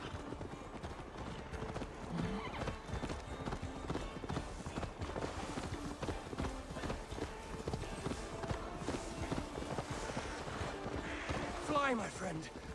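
A horse gallops in Assassin's Creed Valhalla, its rapid hoofbeats drumming steadily through a dense game mix of music, effects and voices, with a brief whinny-like rise near the end.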